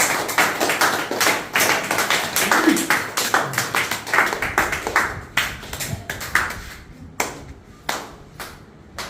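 Hands clapping at an ashram event in Ashwaraopeta, several people clapping in loose, uneven rhythm, dense at first and then thinning into scattered separate claps.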